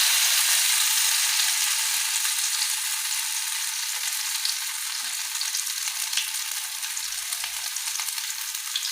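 Bora fritters fry in a pan with a dense, steady hiss and crackle, loud and close throughout, with a few faint clinks underneath and no talking.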